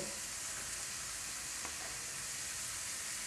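Carrots join cauliflower in a hot pan for a fresh vegetable spring roll filling, giving off a steady, even sizzle with a faint hiss and occasional light stirring, and no voices over it.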